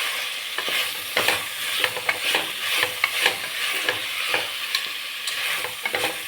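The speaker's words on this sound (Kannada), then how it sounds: "ಫೈವ್ ಮಿನಿಟ್ಸ್ ಫ್ರೈ ಆಗಲಿ." Carrots, beans and kohlrabi fry in a pan with salt, giving a steady close sizzle broken by repeated scraping clinks of a spoon stirring the vegetables throughout.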